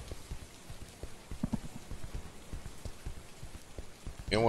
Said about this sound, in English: Now it's raining blood.